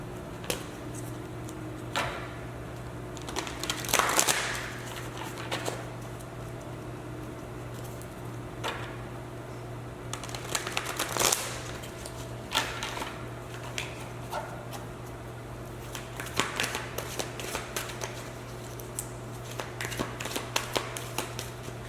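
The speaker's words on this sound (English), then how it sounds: "So now I'm going to pull more cards so we can look more deeply into why the world needs Pile 2" Tarot cards being shuffled and pulled from the deck, bursts of soft riffling and flicking spread across the stretch with quiet gaps between them, close and fairly faint, with no talking.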